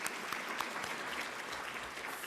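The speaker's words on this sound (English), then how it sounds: "Let's give our Honourable Deputy Minister, Honourable Balotti, another round of applause" Another round of applause at a program relaunch event for a deputy minister: a room of people clapping steadily at moderate distance, a soft, even wash of hands with occasional crisper claps.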